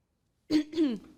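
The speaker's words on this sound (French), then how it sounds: "J'ai toussé un peu." A single short cough, close and clear, in otherwise quiet surroundings.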